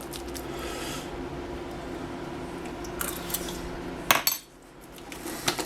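A spoon stirs a protein mixture flavoured with white protein flavour drops, giving soft scraping over a steady background hum, then a couple of sharp metallic clinks near the end.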